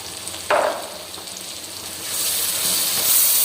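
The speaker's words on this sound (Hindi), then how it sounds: "अच्छी तरह हम भुनाई कर लेंगे इसकी।" Moongre curry with turmeric and green chili frying in a pan, a steady sizzle with a sharp hiss as something hits the hot oil, then stirring as the frying grows louder and fuller.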